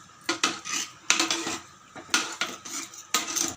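Metal spoon scraping and clinking against a pot while coconut milk rice is stirred, a rhythmic series of close, bright scrapes in four bursts with no talk.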